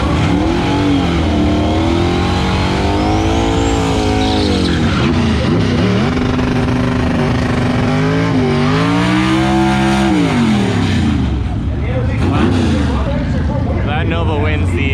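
Loud engine of the Sonicstang car revving hard and accelerating through a drag run, a continuous roaring drone that rises and falls in pitch, with brief speech mixed in.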